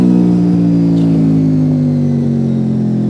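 A budget sports-touring motorcycle engine runs loud and close as the bike slows down, a steady deep drone that holds its pitch throughout.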